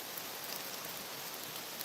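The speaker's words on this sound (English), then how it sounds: "Just the sound of the river," A river flows steadily in a misty, rainy outdoor setting, an even rushing wash heard without voices.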